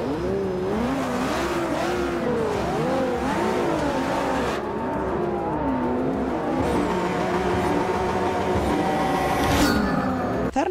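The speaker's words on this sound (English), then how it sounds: "your first look and first drive of the spectacular 2017 Ford GT on the colorful streets of Brazil's marvelous city" A 2017 Ford GT in the racing game Forza Motorsport 6 drives through city streets, its engine revving and shifting continuously with rising and falling pitch, tire squeal near the end, loud and steady throughout.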